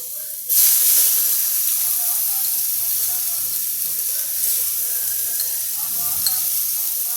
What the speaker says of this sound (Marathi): कांदा लसणाच्या पेस्टला आपण छानपैकी भाजून घेतो आहे